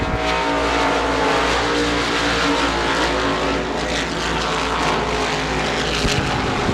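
Modified race cars roar continuously around the Devils Bowl Speedway oval, a loud, dense engine drone with layered pitches from several cars running together throughout, no voices over it.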